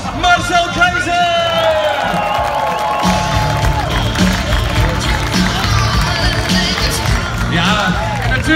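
A loud street crowd cheers and applauds for Marcel Keizer atop a parade float, a dense, continuous roar of voices and clapping with tonal horn-like or whistle-like notes running through it.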